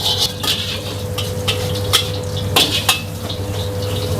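Seafood fried rice stir-fried in a wok at a busy food stall at dinner time: metal spatula clanks and scrapes against the pan in irregular bursts over a steady burner roar.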